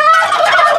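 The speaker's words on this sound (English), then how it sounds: "And the turkeys." Several farm turkeys gobble together in a loud, continuous burst of warbling calls, close and alone without any talk over them.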